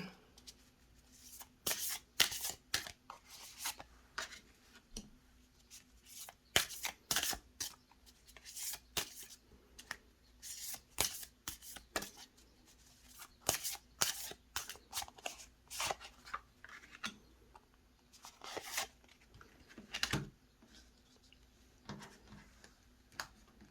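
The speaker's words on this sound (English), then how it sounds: "So I'm going to shuffle some cards" Oracle cards are shuffled again and again by hand, giving crisp riffling bursts in irregular clusters with soft pauses between them, close and clear.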